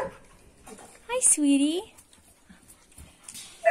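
A frightened, poorly socialized dog whimpers and whines in a brief rising cry while someone speaks softly nearby, her voice surrounding the whine.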